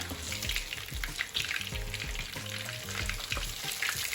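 Onion frying in oil until brown for a hilsa fish curry, a steady close sizzle with stirring scrapes and clatter from the pan, no talking.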